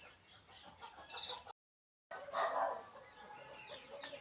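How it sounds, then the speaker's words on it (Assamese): Chickens clucking around a rural village home, with scattered calls and short bursts of fowl sound over a soft, steady background, broken by a brief silent gap midway. "কুকুৰৰ মাত, মুৰ্গীৰ মাত, হাঁহৰ মাত ঢেৰ শুনিব আপোনালোকে"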